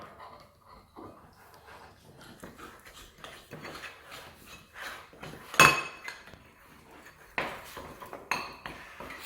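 A spoon stirs drops of red and other food colouring into icing in a bowl, giving soft scraping and intermittent clinks against the bowl, with a few louder knocks near the middle and end.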